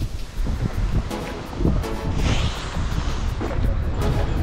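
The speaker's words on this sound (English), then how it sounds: "A cold, dark, windy night." Steady gusting wind on a cold winter night blows across the microphone, a continuous rushing roar with occasional rustling, no voices.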